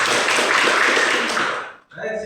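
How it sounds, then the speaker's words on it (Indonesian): Classroom applause, a group of students clapping together in a steady broad patter for a little under two seconds before it stops abruptly and a voice follows. "Tepuk tangan dulu buat tadi."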